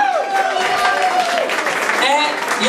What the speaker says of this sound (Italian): Federica, un applauso anche a lei che ha cantato lei